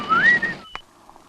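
A person whistles in a Tamil film scene: a short rising whistled note that slides up and holds briefly, followed by a faint click and quiet room tone.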